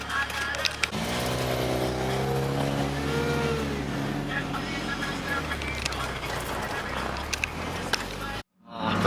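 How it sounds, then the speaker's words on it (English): A Mitsubishi Evo with an aftermarket blow-off valve cruises in a night car-meet convoy in Singapore, its engine droning and shifting pitch close by with brief sharp bursts, while people talk over it. "The blow valve on this Evo sounds amazing."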